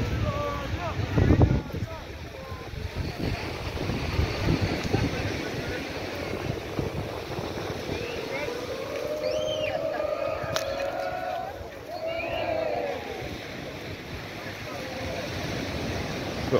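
Waves wash onto Dover Beach in Christ Church, Barbados, a steady surf rush with wind gusting at the microphone, while chirping birds and passing noises rise briefly in the middle.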